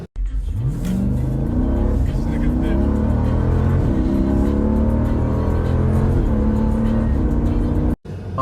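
A 2014 Jeep SRT with a V8 engine revs and accelerates loudly on a test drive, its engine note rising and falling continuously throughout, with a voice partly heard over the engine.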